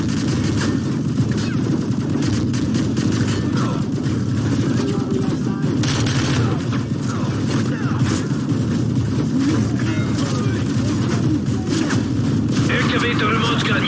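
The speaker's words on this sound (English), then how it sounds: "Ready for another strafing run." Strafing-run gunfire and explosions from the video game Modern Warfare 3 roar as a dense, continuous barrage of shots and booms, loud and unbroken throughout, with speech-like voices and game audio mixed into the din.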